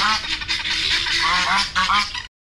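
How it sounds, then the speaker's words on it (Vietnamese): A goose honks loudly and close, a run of harsh nasal calls over about two seconds with no talk, from a children's farm-animal lesson. "Đây là tiếng của con gì? Con ngỗng."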